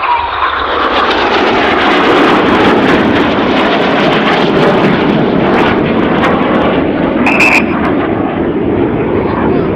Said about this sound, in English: But to your left and your right, not 2 aircraft, but 4 aircraft now. Closing in about 800 miles an hour